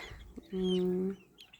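A single close, drawn-out bantam chicken call, a loud sustained cluck lasting about half a second, with faint scratching around it.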